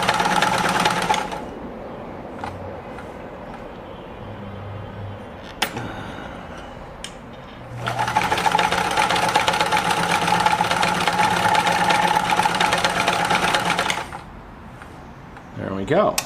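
A Kenmore 1341 sewing machine runs a triple mending stitch in two bursts, a short one at the start and a steady stretch of several seconds later, with quieter pauses between them and a voice heard at times.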